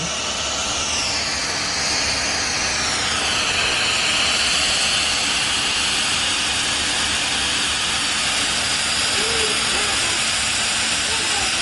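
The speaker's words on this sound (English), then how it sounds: "That's where all the steam is coming out." A Bissell PowerFresh Lift-Off pet steam mop releases steam on hard floor or tile, giving a steady, loud hiss that runs unbroken the whole time with a faint low rumble underneath.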